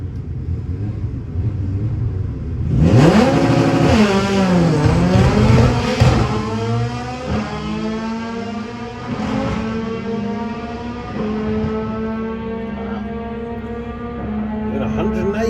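A drag racing car on a checkout pass at Santa Pod, heard as a sudden loud engine launch and rising, revving roar that sweeps up through several gear changes, then a sustained drone fading slightly as it runs down the strip.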